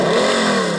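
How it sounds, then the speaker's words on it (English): An RC rock crawler truck's engine starting up at a backyard rock course, a brief, close, buzzing rev. "let's start up the engine"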